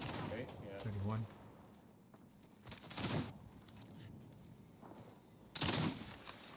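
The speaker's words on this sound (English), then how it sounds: "Opening fire." Video game gunfire comes in short broadband bursts, with sharp volleys near the start, around three seconds and again late in the clip, over a constant game background.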